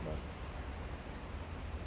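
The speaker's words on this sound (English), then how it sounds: "we know this rain. You can see it, you can hear it. It's a pretty good downpour." Heavy rain downpour hissing steadily and evenly at close range, a dense continuous wash of drops with no breaks and no other sounds standing out.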